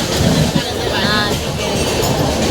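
Train running on railway tracks, a steady close rumble and rattle of wheels that lasts throughout, with faint voices underneath.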